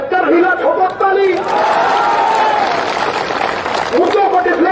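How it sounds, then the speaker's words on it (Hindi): Large crowd at a political rally in India cheering and shouting loudly, with bursts of applause throughout, rising again near the end. "ठोको ताली"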